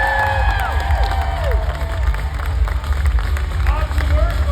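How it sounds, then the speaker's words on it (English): Audience applause and cheering at a large company reunion event, loud crowd clapping with whoops and music-like tones beneath, voices mixed through the noise. "Let's give these guys a round of applause."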